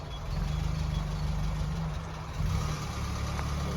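A Triumph Roadster's 2-litre engine idling steadily nearby, a low even rumble that rises slightly partway through.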